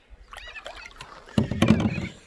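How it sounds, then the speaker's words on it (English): A canoe paddle strokes through water on the Murray River, giving a few close, soft splashes and knocks against the hull, the last stroke the loudest. "I can make the most of paddling out in this sun for a little bit longer"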